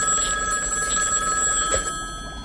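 A telephone rings insistently nearby, its bright trilling bell carrying through to the end, with a brief bump of handling noise near the close and no speech.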